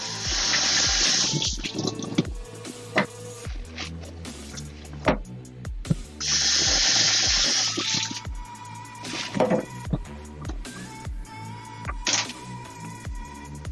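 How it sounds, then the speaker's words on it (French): Tap water runs hard over a kitchen cutting board in two long rinsing bursts separated by quieter pauses, with music playing steadily in the background. "Juste nettoyer ma planche."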